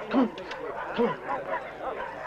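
Dogs on leashes bark and whimper in a few short yelps and whines mixed with a voice talking to them, close by and moderately loud, in a tense night scene from a cop film.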